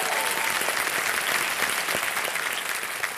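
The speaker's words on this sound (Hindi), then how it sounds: "जोरदार तालियां, स्वागत में।" A studio audience on a televised quiz show set bursts into loud, dense applause that stays steady and full throughout, with no talking over it.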